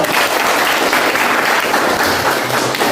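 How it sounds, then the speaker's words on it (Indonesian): A classroom of students claps together in a dense, steady burst of hand clapping that holds at full strength for the whole stretch, with no one speaking over it. "Tepuk tangan dulu kita ya."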